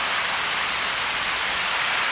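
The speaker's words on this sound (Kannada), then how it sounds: "ಈಗ ನೋಡಿ ಅದು ಎಷ್ಟು ಜೋರು ಮಳೆ ಬರ್ತಾ ಉಂಟು" Heavy rain pours steadily over a home courtyard, a dense, constant hiss at close range with no voices and no pauses.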